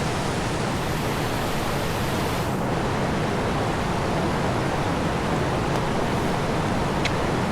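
The Laurel River near Hot Springs, North Carolina, rushes in a steady, loud, broadband wash of flowing creek water, unbroken and close for the whole stretch, with no voices.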